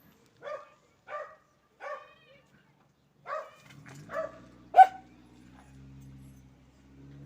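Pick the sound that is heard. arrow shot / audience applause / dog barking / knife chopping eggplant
dog barking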